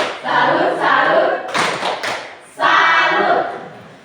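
A school class performs the 'tepuk salut' clapping chant, with children's voices chanting over rhythmic hand claps in two loud bursts separated by a short pause.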